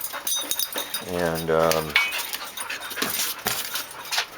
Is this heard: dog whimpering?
yes